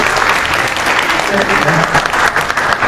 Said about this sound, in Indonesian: Kasih tepuk tangan dong Bapak.